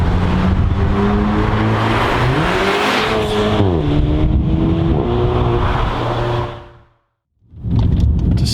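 A stage 2 tuned 2015 Volkswagen Polo GTI 6C revs hard through rising and falling engine pulls, loud and close, before cutting out abruptly and then roaring back.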